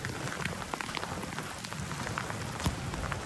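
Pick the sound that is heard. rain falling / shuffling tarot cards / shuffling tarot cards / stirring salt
rain falling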